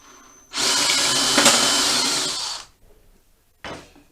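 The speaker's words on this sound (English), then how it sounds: "drill a hole slightly larger to accommodate the riv nut" A power drill bores a 9mm hole for a riv nut on a Honda CBR400 track bike, with a loud, steady whine lasting about two seconds, then stopping, followed by a brief second burst.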